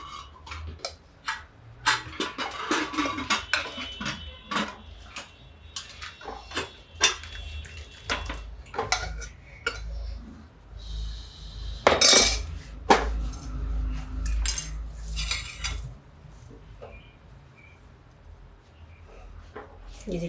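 Dishes and cutlery clink sharply and intermittently while watermelon sambar is served, with scattered taps of spoon on steel and a few louder clatters at close range.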